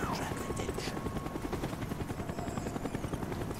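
A helicopter in Call of Duty: Black Ops beats steadily and rhythmically overhead throughout the clip. Its rotor sound runs under faint voices and background noise.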